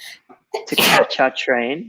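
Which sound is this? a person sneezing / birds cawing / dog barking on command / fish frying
a person sneezing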